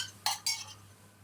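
A spoon stirs spaghetti soup in a pot on the stove, giving two close metallic clinking scrapes a fraction of a second apart over a low steady hum, then quiet.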